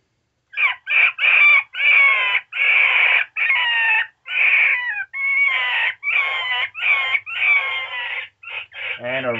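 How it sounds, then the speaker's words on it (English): A Cass Creek Predator 2 electronic predator call plays a gray fox pup distress sound: a rapid run of loud, close, chirping yelps in short repeated bursts with brief gaps, with no talking over it. "Gray fox pup."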